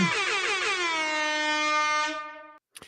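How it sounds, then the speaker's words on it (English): A single loud, blaring air horn blast held for over two seconds, then cut off abruptly, with nothing else around it. "Air horn."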